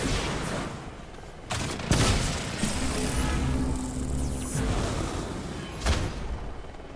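Gunfire bursts and heavy impacts crack through a combat scene in the video game Marvel's Midnight Suns, loud, sharp shots and booms over a dense rumbling background, with sudden louder blasts near the two- and six-second marks.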